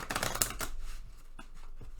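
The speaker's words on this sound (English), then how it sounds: "So I'm going to shuffle the cards a few times" A deck of playing cards is shuffled close up, giving a quick burst of riffling flutter that fades into softer slides and taps.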